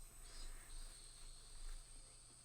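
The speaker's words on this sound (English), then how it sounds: "The cicadas' voices raised in chorus sounded like they were scoffing at me" A steady, faint chorus of cicadas drones in the background of the Higurashi game, with a high sustained trill that swells and fades softly in pulses.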